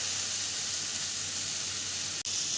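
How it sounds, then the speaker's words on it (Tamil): A handful of moringa leaves sautés in a hot pan, giving a constant, even hiss of sizzling with one brief dropout near the end. "முருங்கைக்கீரையை இதோடையே சேர்த்து போட்டு நம்ம வதக்கிக்கலாம்"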